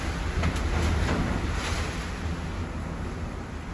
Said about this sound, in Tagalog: Binabayo na kami ng hangin. Sobrang lakas